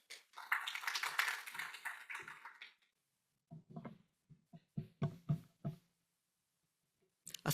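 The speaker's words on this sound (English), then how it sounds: "So please give a round of applause." Audience applause at a university lecture event at Coburg University, Germany: a dense burst of clapping for nearly three seconds, then fading into a few scattered, separate claps and taps.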